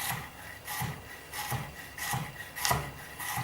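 A knife slices through free-range chicken, its blade rubbing against guiding fingers, producing close, soft rasping strokes that repeat in a steady rhythm about every half second.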